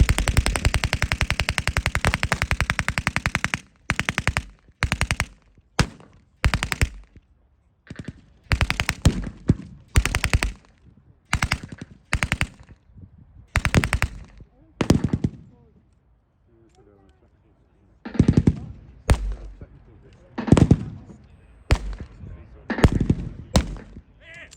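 Rapid bursts from a German MG42 machine gun at a wartime reenactment on a field, loud ripping volleys in short and long strings separated by pauses, with scattered other gunfire and occasional faint voices.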